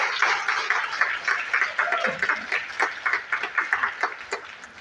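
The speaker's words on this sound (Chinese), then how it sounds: "我们给这个掌声给我们的王梅飞马。" A crowd applauds a woman being honoured as Hong Kong's first Pegasus-rank member at a business sharing meeting, a dense wash of many hands clapping steadily for several seconds, growing into louder distinct claps toward the end.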